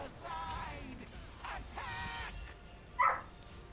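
A dog barks a few times in the background of a home gaming session during a Veteran Rockgrove trial in an online game, faint barks mixed with game sounds and a brief louder yip near the end.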